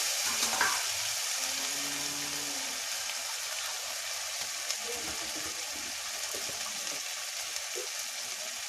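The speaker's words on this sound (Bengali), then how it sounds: "আদা রসুন পেঁয়াজ একটু রসুন বাটা দিলাম, একটু নেড়ে নিলাম" Ginger, garlic and onion with garlic paste fry in oil for a homestyle duck curry, a soft continuous sizzle with occasional stirring scrapes at moderate distance, no talking.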